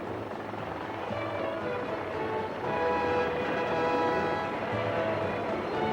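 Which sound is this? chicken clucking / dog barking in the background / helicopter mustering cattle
helicopter mustering cattle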